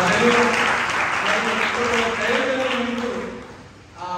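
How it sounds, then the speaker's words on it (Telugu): Loud applause from a meeting audience fills the room, a dense sustained clatter of many hands that fades near the end before rising again, with voices mixed in underneath. "గట్టిగా చప్పట్లు"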